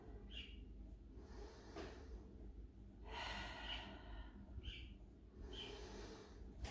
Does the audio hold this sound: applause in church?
no